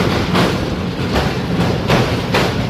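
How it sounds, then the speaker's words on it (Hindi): Miyanwali Express passenger train running over the tracks near the Lahore railway yard at night, loud rhythmic clickety-clack of wheels hitting rail joints in regular paired thumps, close by with no talk. "इस एरिया में आकर ट्रैक साउंड बहुत कमाल का सुनने को मिलता है।"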